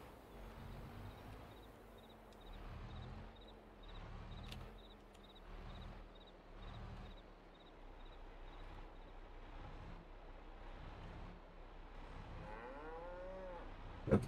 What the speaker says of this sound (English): The cows